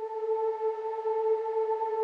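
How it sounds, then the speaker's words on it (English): A steady atmospheric synth pad in a music track holds two sustained tones, faint and unchanging, with no voices. "Then we have this atmospheric sound."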